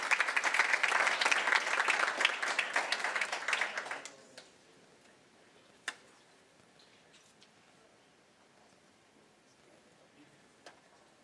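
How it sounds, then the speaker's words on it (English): An audience at a school district board meeting claps for AP scholars, dense applause for about four seconds that stops abruptly, leaving quiet room tone with a couple of isolated knocks. "So now, please, a round of applause for our student, our AP scholars."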